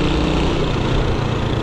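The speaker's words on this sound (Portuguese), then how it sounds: "Tá com barulho diferente a moto," A motorcycle engine with an unusual noise runs steadily up close, a continuous rough mechanical drone with no breaks.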